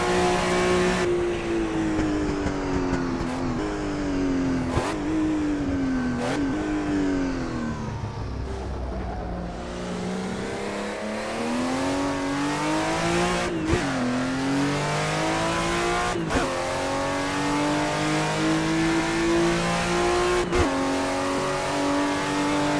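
Porsche 935 race car in Assetto Corsa EVO, right-hand drive, turbocharged with four gears, its engine droning loud and steady with rising and falling revs and several sharp gearshift breaks.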